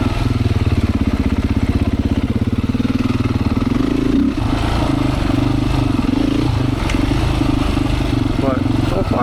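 A Beta 500 dirt bike rides downhill on a trail, its engine droning steadily with a throbbing low pulse, close and loud throughout, with a brief dip and a few clattering knocks midway.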